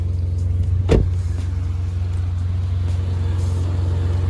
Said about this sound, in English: As you can hear, my fan is on.